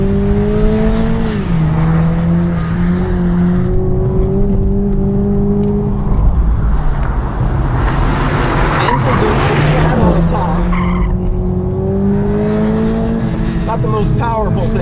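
A 2021 Toyota Supra with the 4-cylinder engine and 8-speed automatic drives hard, its steady engine drone rising and falling while tires squeal and skid through turns, loud and close, with someone talking over it.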